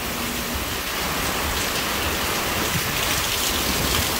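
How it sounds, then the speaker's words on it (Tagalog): Heavy rain and strong wind from Typhoon Paeng in Rizal roar as a dense, constant wash of noise, loud and unbroken throughout, with no voices. "Lakas ng ulan."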